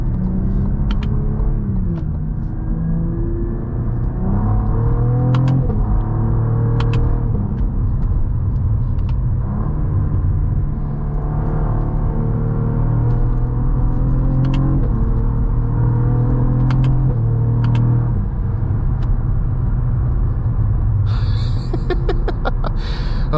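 A 2024 Cadillac CT4-V Blackwing pulls onto the highway, its engine rumbling steadily as it accelerates through the gears, with road noise and a few brief clicks from the cabin.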